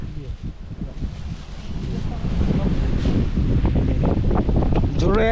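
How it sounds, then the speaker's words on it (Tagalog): Strong mountaintop wind buffets the microphone in heavy, rumbling gusts that build and stay loud, with people talking under the roar during a meal outdoors. "Sobrang hangin dito mga idol, oh."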